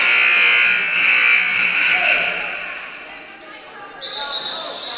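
A loud, sustained buzzer sounds at a high school basketball game between Ridge Point and Texas, blaring over crowd noise for about two seconds before a second tone starts near the end.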